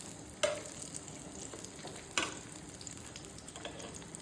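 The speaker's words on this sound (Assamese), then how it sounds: "এইফালে বেঙেনা ভাজি আছোঁ" Brinjal frying in a pan, a low continuous sizzle broken by two sharper clatters of a utensil, quiet and close with no voices.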